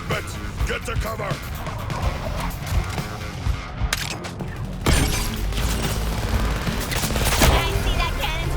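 A cannon bombardment pounds the battlefield in Suicide Squad: Kill the Justice League, loud continuous blasts and gunfire rolling without pause, with a heavier impact surge midway, and voices shouting over the barrage.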